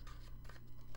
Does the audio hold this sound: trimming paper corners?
yes